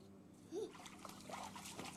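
A child swims in cold water, with splashing and trickling close by at moderate level and a brief vocal sound partway through.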